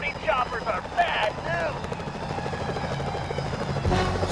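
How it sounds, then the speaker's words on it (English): Security helicopters thrum with a steady rotor drone in Sly Cooper: Thieves in Time, layered with game effects and voices talking throughout. "Those security choppers are bad"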